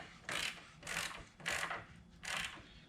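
Bolts being snugged on a truck upper control arm with a ratchet: four quick bursts of clicking, evenly spaced, close and clear with short pauses in between.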